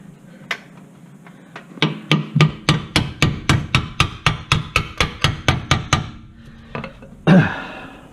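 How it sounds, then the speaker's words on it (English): A hammer strikes a WD-soaked strut bolt during a car strut replacement, about sixteen sharp metallic blows in a steady, quick rhythm, close and loud, with a few isolated taps before and after. "and with the hammer"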